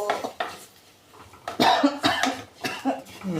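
A person coughs several times in quick, harsh bursts, close by, with faint clinks of kitchenware in between.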